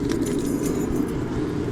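A bunch of keys jangles and rattles in a pocket close by, a steady bright metallic shimmer lasting under two seconds beside a high-mileage Mercedes-Benz.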